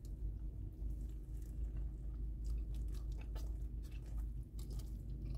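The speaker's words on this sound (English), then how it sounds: "First bite." Close, quiet biting and chewing of a Red Robin burger, soft squishy crunches repeating irregularly over a low rumbling background.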